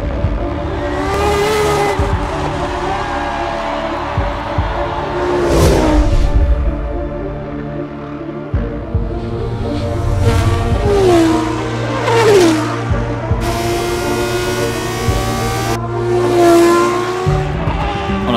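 An F1 car in F1 2013 laps the Jerez circuit, its engine wailing loudly with repeated rises and drops through gears, sharp downshift blips and brief tyre squeals in the corners, continuous and close.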